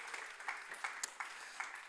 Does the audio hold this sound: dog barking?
no